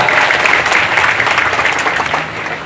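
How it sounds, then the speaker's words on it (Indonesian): A crowd at a large Islamic sermon gathering claps steadily and loudly together, a dense, sustained round of applause that eases slightly toward the end. "tepuk tangan untuk kebersamaan kita"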